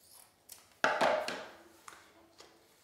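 Scissors cut the end of an orange ribbon with a crisp, close snipping crunch, followed by a few faint taps and handling sounds.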